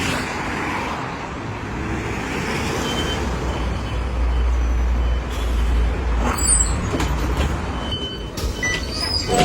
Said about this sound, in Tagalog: So yun guys, ito na yung bus na sasakyan natin.